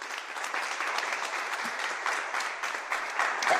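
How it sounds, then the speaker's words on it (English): Steady audience applause closing a high-level sustainability dialogue session, an even wash of many hands clapping, moderately loud and continuous with no talk over it. "I want us all to give them a round of applause."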